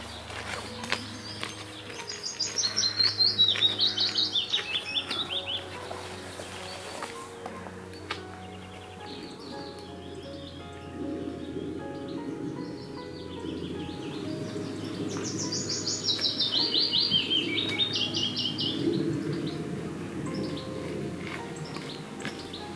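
Bursts of bright, warbling birdsong rise twice from a steady outdoor hum along a sheltered path by a gully and burn near Cruden Bay, Scotland, each lasting several seconds, with scattered faint chirps in between.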